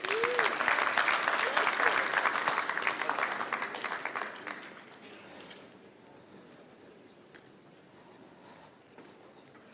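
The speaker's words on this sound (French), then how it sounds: "On ne l'applaudit pas, Monsieur le ministre ?" Applause from a conference audience for a minister receiving a trophy at an insurance market panel: strong, dense clapping that fades out over several seconds into quiet room noise, with a voice audible beneath it.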